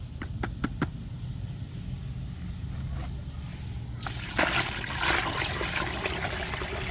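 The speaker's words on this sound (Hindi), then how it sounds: "इसके अंदर अब हम पानी डालेंगे।" Water poured into plain soil in a container to make mud, a broad splashing pour that starts partway through after a few faint taps and runs loud and close to the end.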